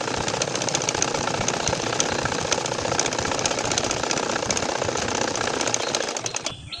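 A sewing machine stitches a line on a nakshi kantha quilt, running steadily and close up, a dense continuous mechanical whir that holds without pause until it stops at the very end.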